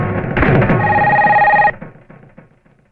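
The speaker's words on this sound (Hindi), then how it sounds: "madam phone" Telephone bell ringing in an Oriya film scene, a loud sustained electronic ring lasting about a second and a half before cutting off into quieter room sounds.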